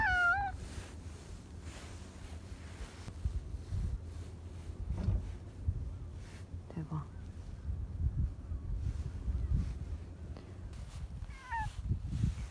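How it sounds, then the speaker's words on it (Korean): A stray cat meows on an island walk, a couple of clear close meows at the start and another near the end, over wind noise and footsteps, with people talking in between. "길냥이가 아닌가?"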